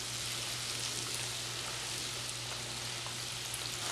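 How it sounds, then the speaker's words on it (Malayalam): KFC-style chicken popcorn fries in hot oil with a steady, dense sizzle and crackle that holds at even loudness throughout, close up and uninterrupted, with no talking. "ഇതുപോലെ തന്നെ ബാക്കിയുള്ളതും കൂടെ ഫ്രൈ ചെയ്തെടുക്കാം."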